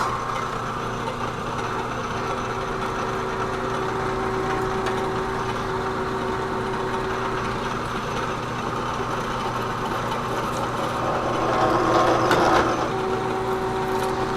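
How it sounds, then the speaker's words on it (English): A lathe fitted with a Jacobs drill chuck drives a 1 1/16 inch drill bit, giving a steady mechanical hum with a faint tonal whine that swells briefly near the end, with no talk. "let's see if it holds up drilling."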